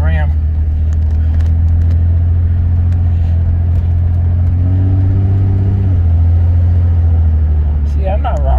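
A 2006 Dodge Ram 3500 pickup with a 5.9L inline-six 24-valve Cummins diesel drives steadily, its loud, low engine drone holding constant with a slight rise mid-way, heard from inside the cab as people talk over it.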